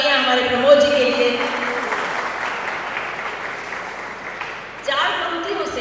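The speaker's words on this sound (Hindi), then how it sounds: "एक बार जोरदार तालियां" Audience clapping at an evening poetry gathering, a steady crowd applause filling the middle seconds between stretches of a voice speaking at the start and end.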